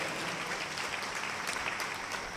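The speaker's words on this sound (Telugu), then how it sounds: "అందరం గట్టిగా చప్పట్లు కొట్టండి." A church congregation claps loudly and steadily during prayer, a dense continuous wash of many hands with no clear voice on top.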